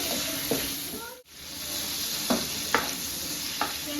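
A spatula scrapes and stirs chicken in a pan a few times over a steady sizzle of frying, with no voices.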